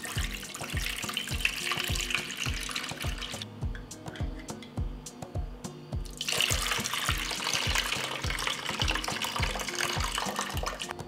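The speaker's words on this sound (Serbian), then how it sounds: "tečnost iz tegle sipat ću u jednu šerpu" Liquid poured from a jar into a cooking pot, a continuous close splashing stream with rhythmic gurgling pulses, briefly thinning in the middle before pouring strongly again.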